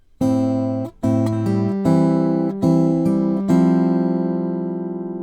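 Clean guitar playing a hook riff, with plucked notes and chords ringing out in a slow, sustained phrase, close and alone.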